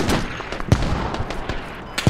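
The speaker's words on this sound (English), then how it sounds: "Whoa, that's shooting right over my head." Gunfire in the tactical military shooter Squad on a British counter-insurgency map, scattered sharp shots cracking nearby and overhead at irregular intervals over a constant background of battle noise.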